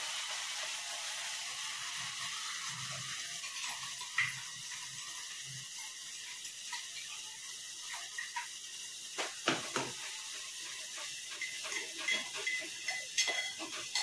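Hot oil frying in a pan for chicken biryani gravy gives a soft, steady hiss with scattered small crackles and pops, fairly quiet throughout.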